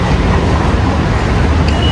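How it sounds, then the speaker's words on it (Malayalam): Traffic outside Mumbai's old CST railway station makes a loud, continuous close roar of engines and road noise, unbroken for the whole stretch with no clear speech. "നമ്മളിപ്പോൾ ഉള്ളത് മുംബൈയിലെ സി എസ് ടി റെയിൽവേ സ്റ്റേഷൻ്റെ മുമ്പിലായിട്ടുള്ളത്"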